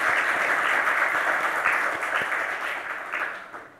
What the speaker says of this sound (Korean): 우리 박수로 환영해 드리겠습니다.